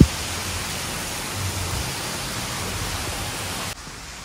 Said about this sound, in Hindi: इतनी तेज बारिश हो रही है ना।